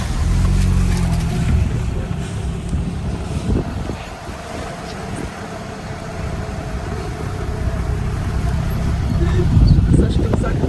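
A car drives slowly along a rain-washed dirt road in Argentina, its low engine rumble and wind buffeting steady throughout while people talk inside the vehicle.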